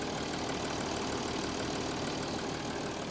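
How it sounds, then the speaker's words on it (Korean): A steady, even engine hum idles without change throughout, quiet and continuous with no voices. "일단 엔진 사운드부터 한번 들려봐드리면"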